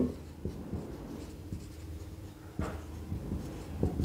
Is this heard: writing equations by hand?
yes